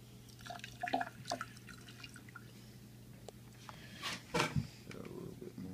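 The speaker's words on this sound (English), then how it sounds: "And then we're going to put your vinegar in." Vinegar is poured into a mix of hydrogen peroxide and baking soda, giving faint splashes, drips and fizzing, soft and close, with a louder pour burst near the end.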